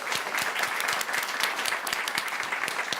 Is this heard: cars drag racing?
no